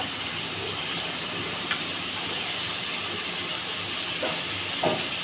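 Chicken gizzards and liver stir-fry in a pan, giving a steady, even sizzling hiss throughout with a few faint clinks from stirring.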